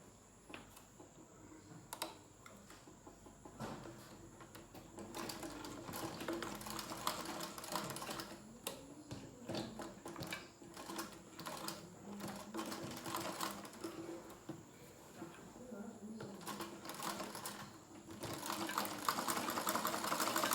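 A sewing machine stitches a seam on a pencil skirt in quick bursts of rapid mechanical clatter, with short pauses between runs and then a longer, louder stretch toward the end. It is heard close up, with no talking.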